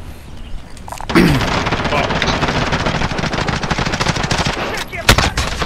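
Sustained automatic gunfire rattles through a Warzone match, loud and dense for several seconds, with a sharp louder shot near the end and a voice reacting underneath.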